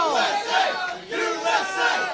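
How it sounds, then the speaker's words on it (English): Crowd at The International 2013 esports event chanting a USA cheer, a loud, close mass of voices rising and falling in two rhythmic shouted bursts. "can we get a USA cheer for Liquid?"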